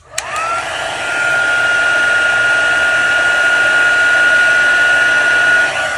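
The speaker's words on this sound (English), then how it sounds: "while I have my heat tool out" A heat tool drying watercolor paint starts with a click and then blows a loud, steady whirring hiss with a high whine, running unbroken for several seconds close by before easing off at the end.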